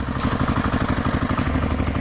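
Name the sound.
cartoon tractor driving on eggplant field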